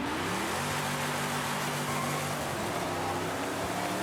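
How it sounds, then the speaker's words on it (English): A restored Ford Mustang Boss 302 in Forza Horizon 5 revs hard and accelerates, its engine note climbing through the gears in a loud, continuous drone with no talking. "Car sounding incredible already. Much better than it did before. A lot more power."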